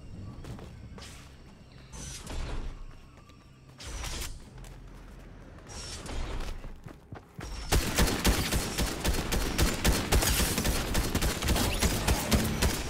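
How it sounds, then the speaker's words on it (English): Fortnite game gunfire starts as scattered sharp shots with gaps between them. It then turns into a dense, continuous volley of rapid firing that stays loud and close. "he's shooting at me"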